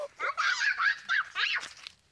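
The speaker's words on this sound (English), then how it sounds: "There's the chickens." Several loud, nasal honking calls from chickens on a farm in Udon Thani, Thailand, in quick succession, close by, with short pauses between cries.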